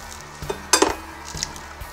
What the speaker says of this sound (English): Next up, crack 12 eggs, you cracker.